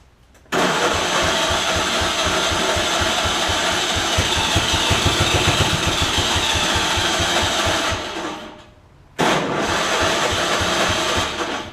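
A John Deere AMT600 Gator engine cranking steadily on the starter without catching, a rapid rhythmic churn lasting several seconds, pausing briefly, then cranking again, loud and close.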